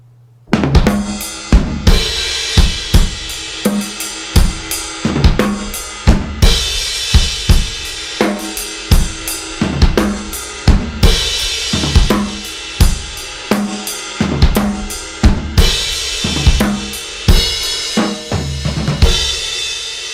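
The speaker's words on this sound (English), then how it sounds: "we split it between the floor tom, back tom, and snare and kick" A full drum kit plays a steady, slow groove from a song, with thumping kick, sharp snare hits and rolling floor and rack tom strokes, loud and close.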